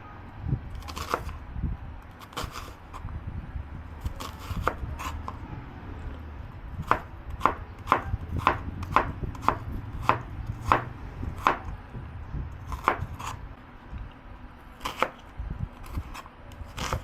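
Onions chopped with a knife on a cutting board for chili: brisk, close knife strikes come in quick rhythmic bursts with short pauses between them, and no one speaks.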